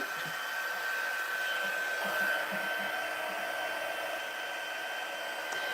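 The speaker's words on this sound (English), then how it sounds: "So let's heat up our heat gun." A heat gun for embossing a card blows steadily as it warms up, a constant close whooshing roar with a thin high whine running through it, alone without talk.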